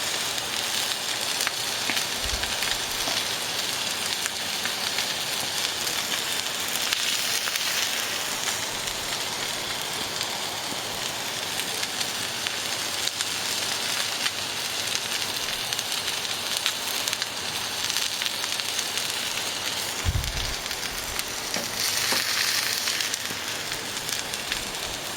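Steak searing on a hot griddle, a New York strip coffee-crusted and cut from the loin, gives off a steady, dense sizzle that holds for the whole stretch, close and even, with a couple of brief low thumps as the meat is shifted.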